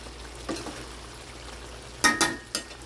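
Chicken breast pieces stirred in a sizzling pan, with a steady fry hiss and a few sharp scrapes and clinks of the utensil against the pan, no talking.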